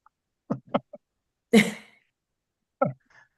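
Several short throaty coughs from one nearby person on a call, a couple of quick bursts, a harsher louder one in the middle and one more near the end, with silence between.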